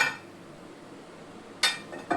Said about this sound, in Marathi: चपात्याचा तवा हा आहे